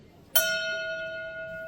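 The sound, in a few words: bell struck in memorial toll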